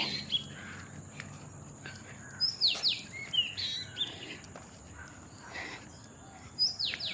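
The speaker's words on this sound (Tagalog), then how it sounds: "Daming ibon na tumutunog." Many birds chirp and tweet around a morning walk past rice fields, with bright, scattered calls near and far over the soft crunch of footsteps and steady background hiss.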